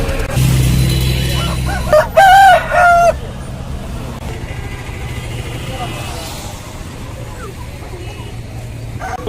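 A rooster crows loudly near the start among clucking country chickens at a weekly poultry market, with an engine hum and traffic noise continuing in the background.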